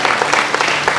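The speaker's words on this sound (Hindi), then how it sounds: "जाइए तालियां दे दो जरा." A brief burst of audience applause at a Christian healing gathering in Chhattisgarh, loud close clapping from a crowd.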